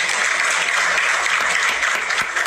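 Steady, dense clapping from a crowd in Côte d'Ivoire greeting the World Cup trophy fills the whole stretch at a fairly loud level, with no voices cutting through.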